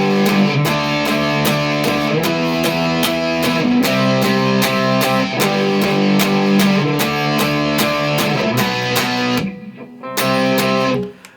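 A distorted electric guitar chugs through the chorus power chords of a song, four steady hits per chord in a driving loud rhythm, with a short break near the end.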